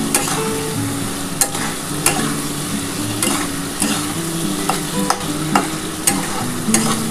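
Paneer cubes sizzle and fry in a pan for dry chili paneer while a utensil stirs and scrapes them, with repeated sharp clacks against the pan over a constant frying hiss.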